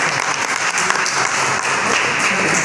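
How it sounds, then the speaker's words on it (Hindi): An auditorium audience at an arts council memorial event for a singer claps in a dense, continuous wash that holds steady and loud for the full stretch, with no voices on top. "इस पर तो तालियां बजा"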